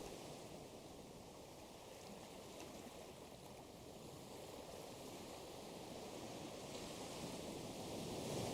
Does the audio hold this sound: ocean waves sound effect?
yes